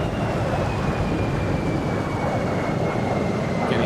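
A simulated aircraft engine in X-Plane 12 holds a steady, dense drone throughout as the throttle eases off, loud and continuous with no voices.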